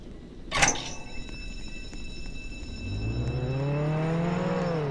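A car in a multiplayer driving game rumbles low and rises in pitch as its engine revs up over the last two seconds, after a sharp brief crack near the start and a steady electronic hum throughout.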